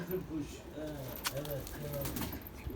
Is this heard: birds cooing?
yes